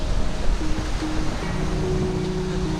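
Small waves wash steadily onto the lake shore of Lake Taupo, a broad, continuous rushing surf with no talk over it.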